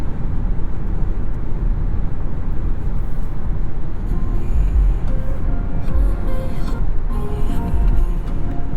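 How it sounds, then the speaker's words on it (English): Steady low road and tire rumble inside a 2020 Hyundai Sonata Limited cruising at 70 mph on a wet highway, a constant dense drone with passing traffic swelling briefly, no talking. "let you get an idea for what the car sounds like at 70 miles per hour"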